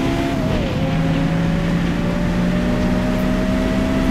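A race car in the Forza driving game holds a loud, steady engine drone with shifting tones and slight tire noise, continuous and close with no voices.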